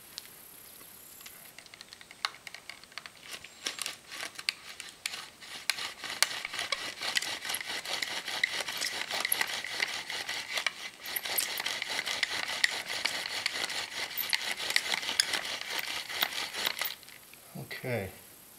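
A wooden bow drill spindle rubbing against a fireboard, all of natural materials, gives a steady raspy scraping with quick back-and-forth strokes that runs on for a long stretch.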